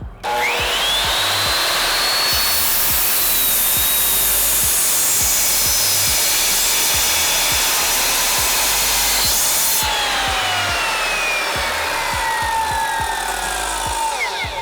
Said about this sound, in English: we're going to take our miter saw